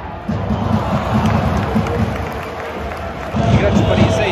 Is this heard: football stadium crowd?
yes